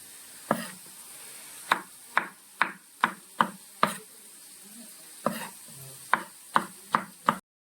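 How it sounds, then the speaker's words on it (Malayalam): A knife chops mushrooms and vegetables for a mushroom and tuber masala curry. About a dozen crisp, separate board strikes come in a fairly steady rhythm, close and clear, with short pauses and no talking. "നമ്മൾ ആദ്യം ഇതൊക്കെ ഒന്ന് അരിഞ്ഞ് സെറ്റാക്കി വെക്കണം"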